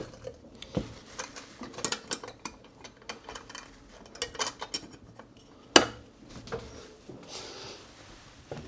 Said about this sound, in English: And then just mix that around until